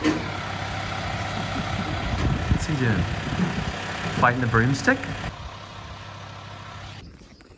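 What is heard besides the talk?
trucks and forklifts working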